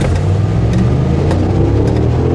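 A 2014 RAM 1500 pickup truck in four-wheel auto accelerates hard toward 60 mph, a loud, steady, close engine drone with road rumble and no voices.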